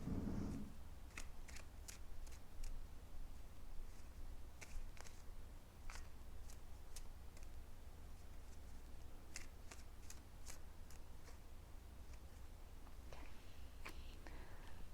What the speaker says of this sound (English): I'm just going to give a little shuffle while I connect to your energy